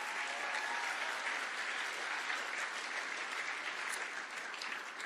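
Audience applause fills a room at a national pro-life summit, a dense, steady wash of clapping from many hands that holds loud and even throughout.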